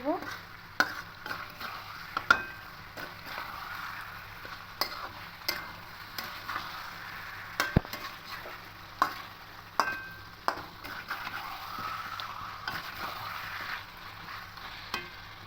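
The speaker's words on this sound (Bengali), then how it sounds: "এবার খুব ভালো করে সমস্ত মশলার সঙ্গে আলু আর চিকেনটাকে এভাবে কষিয়ে" Chicken and potatoes cooked down with spices and tomato are stirred in a pan, with repeated sharp scrapes and knocks of the spoon over a soft, continuous sizzle.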